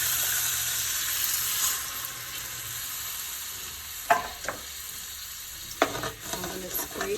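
Chicken broth poured into a pan of cubed steak drippings sets off a steady, bright sizzle and hiss, with a few sharp clinks and scrapes of a utensil against the pan toward the end.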